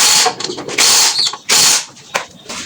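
Shock absorber bolts being tightened on a Suzuki Hayate motorbike with a power tool, loud close whirring bursts in several short runs separated by brief pauses and clanks.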